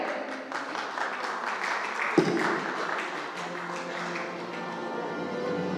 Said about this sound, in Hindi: तालियों से बहुत गुंजायमान रहना चाहिए।